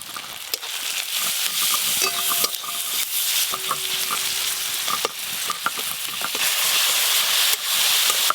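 Chopped tomato with salt and turmeric fries in a pan, giving a loud, close sizzle broken by frequent clacking stirs and scrapes of a utensil.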